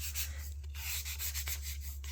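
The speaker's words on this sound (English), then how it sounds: "I do want to just give it a real light sanding here" Light hand sanding of small wooden parts for a model Norwegian sailing pram, a steady close rasping rub in short repeated strokes with no talk.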